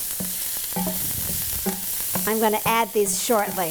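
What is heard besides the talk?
sauteing mushrooms in a pan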